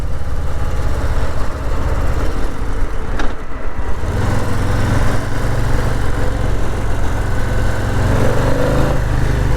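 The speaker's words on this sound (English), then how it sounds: "the engine is just so torquey" A 2022 Harley-Davidson Low Rider S motorcycle engine rumbles steadily at close range, with a deep low throb that drops briefly and then settles into a heavier, fuller idle-like growl in traffic, with no talking.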